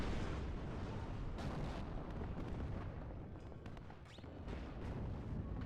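In a World War II strategy video game, an anti-tank gun fires on Panzer Grenadiers amid a dense, loud, continuous roar of explosions and gunfire that fills the whole stretch without pause.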